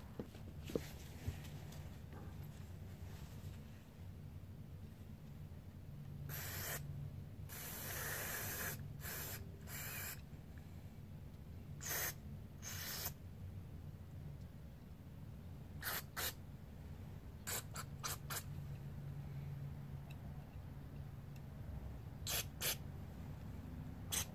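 Carburetor cleaner squirted through the holes of a Honda GCV160 self-propelled mower's carburetor: a dozen or so short, sharp spray bursts, scattered and irregular, close by over a low steady background hum.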